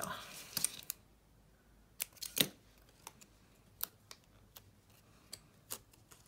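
Sharp scissor snips cutting paper for a desktop fish tank craft, a dozen or so crisp separate cuts spread irregularly, close and fairly quiet in a still room.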